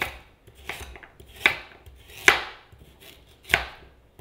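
A knife roughly chops carrots into big pieces on a cutting board, giving a handful of sharp, distinct thunks spaced irregularly about a second apart, close and clear in a quiet kitchen with no talking.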